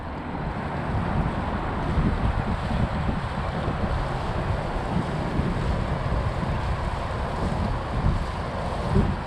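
Strong wind buffets the microphone of a Zino 2 drone flying at full speed with the wind, a steady loud broadband rumble and roar that holds throughout without pause.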